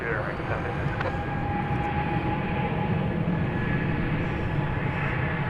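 An American Airlines airliner departing on runway 18 left at DFW Airport produces a continuous distant jet roar that holds steady, with a brief click early on and a faint tone running through.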